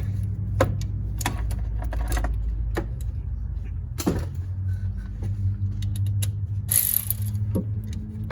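A cordless ratchet loosens a bolt on a 2011 Dodge Nitro 3.7 during an idler pulley replacement, giving short bursts of mechanical whirring and clicking over a low, steady background hum in a work area.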